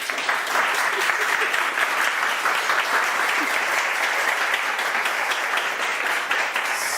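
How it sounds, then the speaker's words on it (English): Sustained applause from a talk audience fills the room, dense steady clapping holding at an even level throughout without a break. "Huge round of applause, everyone."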